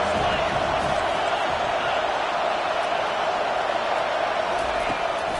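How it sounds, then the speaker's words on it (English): Stadium crowd noise in a Madden football video game swells as the home fans try to fire up the defense for a red zone stop. It is a steady, dense roar throughout, with a commentator talking over it. "here comes the noise. This crowd is trying to inspire this defense to make a big red zone stop"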